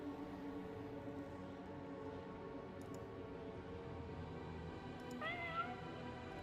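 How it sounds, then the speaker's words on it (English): A soft kitten meow played as an alert sound, a short rising pair of mewing notes near the end, quiet over a steady low hum of background noise. "Kitten meow, though."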